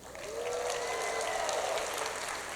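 A crowd applauds at the 2025 CFP Extra Yard Summit with a dense, even wash of clapping that swells and holds at moderate loudness, under a faint high whistle.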